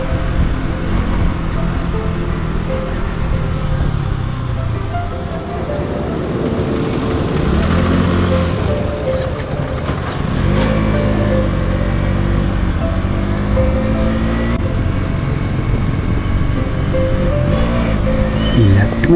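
Steady engine and road drone from a vehicle cruising along the NH75 highway in Jharkhand on a solo ride, continuous and fairly loud with wind noise, no talking.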